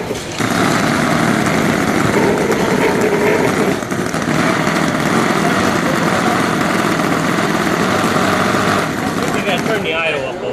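An old stationary engine idling at an Indiana engine show in 2025, a loud, steady running drone close by with a busy rattling texture throughout.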